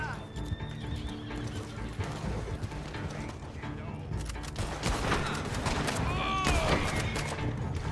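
A horse in an online Western video game whinnies and neighs sharply while hooves clip-clop beneath, with scattered gunfire and game effects around it and someone shouting over the action.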